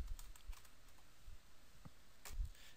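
Keystrokes on a computer keyboard while editing cells in a claim calculator spreadsheet, a handful of light, scattered taps with a brief cluster near the end, faint and close with no talk.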